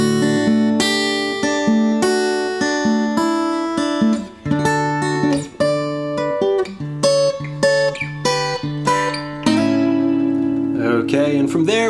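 Slow fingerstyle gospel blues guitar line played solo, clear plucked notes and bass tones ringing one after another at a steady unhurried pace, with no talking over it.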